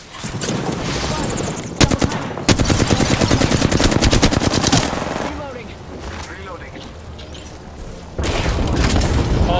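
Apex Legends gunfire: loud rapid bursts of automatic fire and heavy booms in quick succession, with voices talking between and over the shots.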